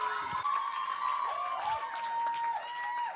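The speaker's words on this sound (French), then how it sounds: "On les applaudit." Audience applause and cheering for the dancers Raphaël Ranucci and Florence Pagne at a Cégeps en spectacle student show, a steady dense crowd roar with shrill whoops and whistles rising over it throughout.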